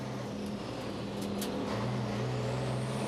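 Onboard Troy Wheeler's Scania race truck at Pukekohe during an NZ Super Trucks race, a steady engine drone with tonal harmonics that shift in pitch as it runs on, plus brief high clicks.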